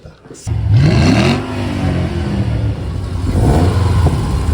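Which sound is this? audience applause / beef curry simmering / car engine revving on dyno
car engine revving on dyno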